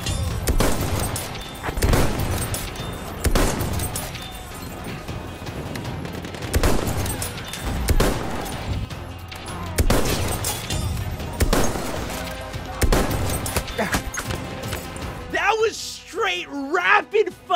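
Sniper rifle gunfire in the video game Battlefield 1, repeated loud sharp shots with booming tails spaced across the clip, ending with someone talking over the game sound.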